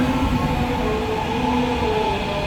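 A 12-car KRL commuter train on track 2 at Duri station, bound for Bekasi and Cikarang via Manggarai, gives off a loud, steady rolling rumble with a sustained metallic whine running through it and no break.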